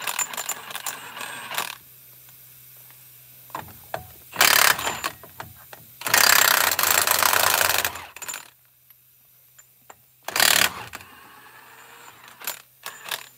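Wrench bursts loosening wheel nuts on a Scenicruiser bus, several loud bursts of a couple of seconds each separated by quieter gaps with faint mechanical clatter, close to the wheel.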